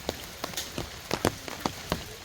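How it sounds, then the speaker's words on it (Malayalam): Rain falling steadily at a village home, with scattered sharp drop impacts over a continuous hiss, fairly faint and with no voices. "അത്യാവശ്യം നല്ല മഴ പെയ്തിട്ടുണ്ട്"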